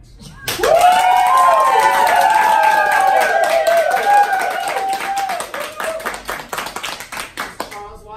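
An audience at a mock courtroom trial claps and cheers loudly after a verdict, with sustained whoops and shouting voices over dense applause that slowly thins toward the end.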